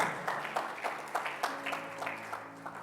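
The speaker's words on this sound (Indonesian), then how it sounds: "Berikan tepuk tangan." A church congregation at a Sunday worship service claps in a series of rhythmic bursts over a sustained musical tone, moderately loud and fairly close.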